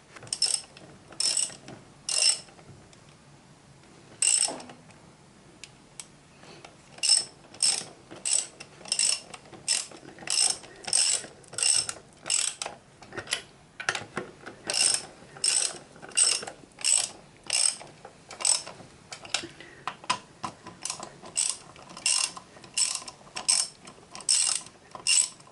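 Car wheel nuts are tightened with a ratcheting tool before the wheel is lowered: close, rapid bursts of ratchet clicks repeated in regular strokes, with no talk.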